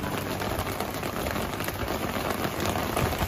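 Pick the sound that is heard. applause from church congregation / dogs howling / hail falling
hail falling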